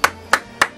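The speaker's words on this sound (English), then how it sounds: "Major applause." Three sharp, evenly spaced hand claps, close and loud, standing in for applause on a radio show during an award announcement.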